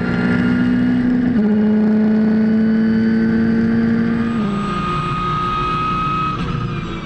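Race cars, including a Ferrari, leave the start at the Anneau du Rhin circuit in a ROSCAR event, their loud engines droning with a strong tone that steps down in pitch at each gear change.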